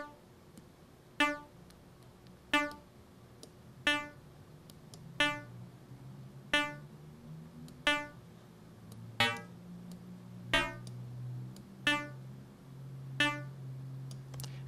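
A synthesized electro drum loop from a Massive soft synth, with a modulated oscillator phase on the snare hits, plays a steady beat of sharp regular clicks about every 1.3 seconds over a low tonal bed, alone.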